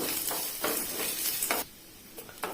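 Roasted gram and ginger fry in a pan with other ingredients, giving a hissing sizzle broken by repeated bursts of stirring that quiet down after a couple of seconds.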